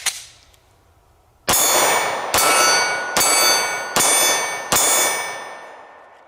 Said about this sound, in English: Let's take a few shots at our steel.